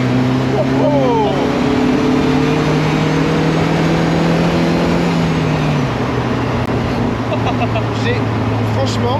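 Secma Fun Buggy, a light rear-wheel-drive buggy, runs on a test drive, its engine drone rising and falling steadily through the revs with constant road and wind noise; people talk in the car over it.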